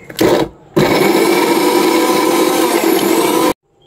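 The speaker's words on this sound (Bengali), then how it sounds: "একটা মিডিয়াম সাইজের পেঁয়াজকে এটাকেও একটু মিক্সিতে পেস্ট করে নেব" Electric mixer grinder blending a medium-sized onion into paste: a short loud burst, a brief pause, then a steady close whirring roar for about three seconds before it cuts off.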